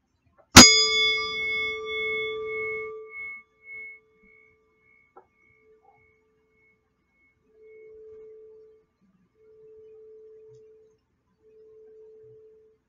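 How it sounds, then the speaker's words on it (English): A meditation bell struck once, a bright metallic ring that rings out and slowly fades, followed by a few soft faint tones and near silence. "I'm going to ring my bell again."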